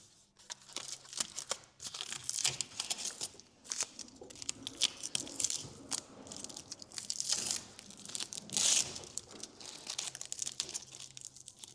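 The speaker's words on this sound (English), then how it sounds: "And the final step, remove the masking tape." Masking tape peeled off a freshly restored vintage pedal car, a steady stream of close crinkling and tearing rasps with a few louder strips pulled away, no talking.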